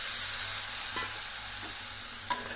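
Boiled chickpeas stirred into sizzling masala in a pan for masala sundal, a steady close frying hiss with soft scraping stirs and one sharp clink near the end, no talking.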